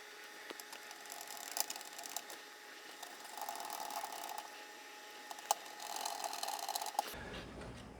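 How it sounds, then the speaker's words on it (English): Small screws being driven into a Gotek floppy emulator board inside a Commodore Amiga 500, a soft, steady run of faint metallic scraping and ticking from close by, with a few sharper clicks and no talking. "let me go ahead and get a couple of screws here and screw this Gotek board in place real quick"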